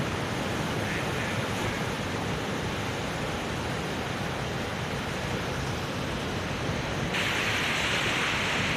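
Sea waves roll onto a sandy beach in a continuous hiss of surf, with wind adding a steady rush and a brighter swell of spray near the end, and no one speaking.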